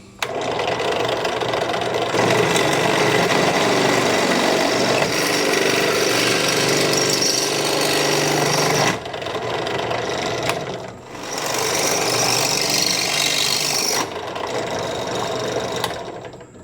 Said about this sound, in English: Just got to drill some holes in it first.